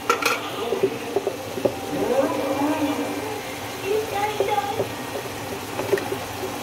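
Homemade masala is stirred into a pan of mutton biryani, with soft scraping and light sizzling clinks under a voice talking throughout.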